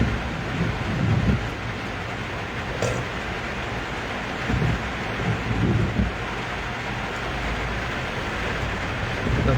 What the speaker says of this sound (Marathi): पावस वचपाचो नांवच काडना.